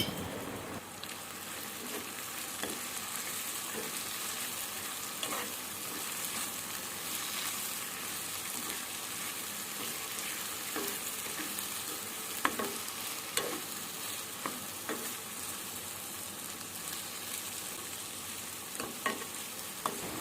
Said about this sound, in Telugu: కారం కొంచెం లైట్గా వేసుకొని మంచిగా ఫ్రై చేద్దాం.